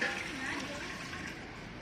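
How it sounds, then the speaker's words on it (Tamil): Water being poured into a clay pot fitted with a tap, a steady broadband splashing wash under the whole short stretch, with no voice. "இப்போயே வந்து தண்ணி ஊற்றி காமிக்கிறாரு"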